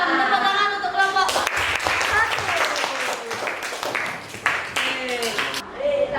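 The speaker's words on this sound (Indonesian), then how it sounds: "Tepuk tangan untuk kelompok" Classroom applause for a student group during a science lesson on water purification, brisk clapping mixed with children's voices and chatter throughout.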